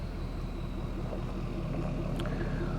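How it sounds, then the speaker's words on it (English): Big diesel trucks rolling past on a road, a deep continuous engine rumble and drone that stays loud and steady throughout, with a faint higher whine near the end and no talking. "Trucks drive by while you're trying to film, and big diesel motors rumble and roll."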